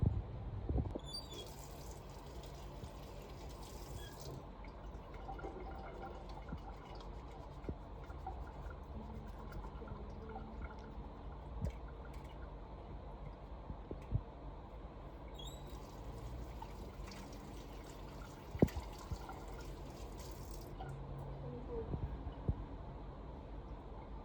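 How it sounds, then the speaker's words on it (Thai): Tap water runs steadily while hands are washed before IV equipment is prepared, a quiet, continuous trickling and splashing with occasional louder drips. "ก่อนที่เราจะไปเตรียมอุปกรณ์เราก็จะไปล้างมือ"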